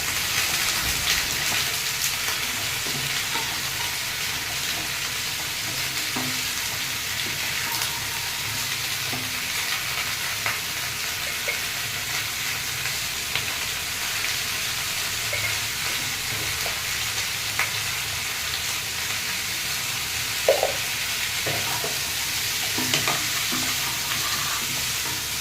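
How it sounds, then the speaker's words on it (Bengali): Vegetables sizzle steadily in a hot pan for a Bengali ekadashi meal, with a continuous frying hiss and occasional soft scrapes and clinks of stirring, no talking. "ভালো করে সবজিগুলো ভেজে নিচ্ছি"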